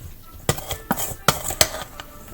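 Cake mix being stirred in a bowl for a peach dump cake, with about five sharp clinks of a utensil against the bowl at irregular intervals and a soft scraping between them, heard close up.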